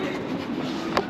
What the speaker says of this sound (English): So that's the tram.